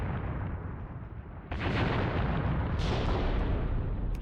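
Mortars in the video game Graviteam Tactics fire high-explosive rounds, making a dense, heavy roar of blasts that swells loudly partway through and stays sustained and booming.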